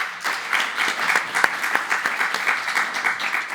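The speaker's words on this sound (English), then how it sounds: "Now they all need an applause." An audience at a sustainable food forum applauds a group of farmers being introduced on stage; the clapping is moderately loud and uneven, with a few sharper individual claps standing out.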